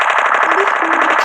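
Rapid automatic gunfire in the video game Dude Theft Wars during a gang war, a dense, loud, echoing burst of shots running without a break and heard alone.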